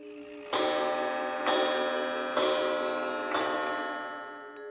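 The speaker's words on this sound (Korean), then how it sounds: "시계 안에 있는 무슨 부품 같은 게 감기면서 정말 기괴한 소리를 냅니다" An old grandfather clock sounds four loud, evenly spaced strikes about a second apart, each ringing on and slowly fading, with no talk.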